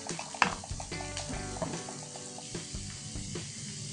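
Grated coconut roasting until deep brown in a pan for a Kerala-style small onion curry, with a steady, close sizzle, clinking stirs and a sharp scrape near the start.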